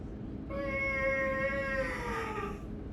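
A single cat meow sound effect plays as a clear, drawn-out tonal cry lasting about two seconds. Its pitch sags slightly toward the end, over a low steady background.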